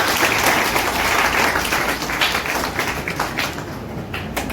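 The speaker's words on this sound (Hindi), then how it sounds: "जोरदार तालियों से स्वागत कीजिए" Strong applause from students and teachers at a school assembly welcoming a speaker, dense and loud at first, then thinning to scattered claps toward the end.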